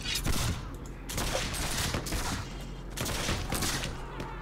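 Musket fire in the video game Mount and Blade: With Fire and Sword, a dense, continuous crackle of overlapping gunshots and volleys, loud and close throughout.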